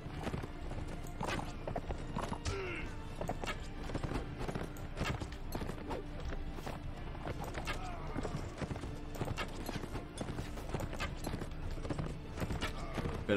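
Horses gallop in Mount & Blade Imperial Rome, steady clip-clopping hoofbeats rolling on continuously throughout amid busy battle noise, with occasional whinnies.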